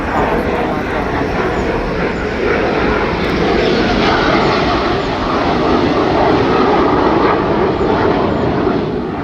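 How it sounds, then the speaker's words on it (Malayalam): A Rafale fighter jet passes overhead with a loud, powerful, continuous roar that swells slightly and fills the whole stretch without a break. "ഇവിടെ നിൽക്കുമ്പോൾ തന്നെ നമുക്ക് ആ റഫാൽ ഫ്ലൈറ്റ്സിൻ്റെ ആ സൗണ്ട് ഭയങ്കരമായിട്ട് എക്സ്പീരിയൻസ് ചെയ്യാൻ പറ്റും"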